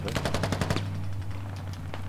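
A rapid machine gun burst in the military shooter game Squad, a dense string of loud, close shots that stops abruptly, with a steady background hum and scattered faint noises after.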